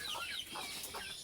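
Free-range backyard hens cluck and chatter in short overlapping bursts, fairly faint and alone, with no talking.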